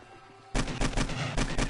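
Rapid bursts of gunfire from Nemesis in the video game 7 Days to Die, played on PS4 at insane difficulty, start abruptly after a quiet moment and keep hammering loudly in a dense, continuous volley.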